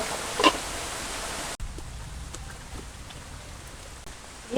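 Heavy monsoon rain falling outside a village kitchen, a dense, even hiss that drops noticeably softer partway through and continues steadily without any voices.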